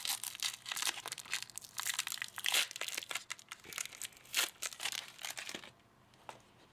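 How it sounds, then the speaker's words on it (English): Tape is peeled off a shoe repaired with Shoe Goo adhesive, giving close, crinkly tearing and crumpling bursts that stop abruptly near the end. "I am going to take the tape out."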